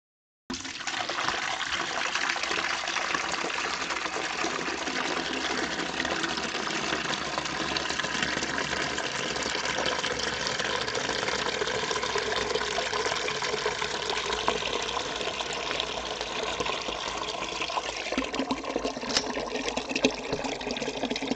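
Water pours steadily from the drain plug of an ice chest cooler mounted on a motorcycle trailer, a continuous close rushing and trickling flow that holds even for about twenty seconds with no talking.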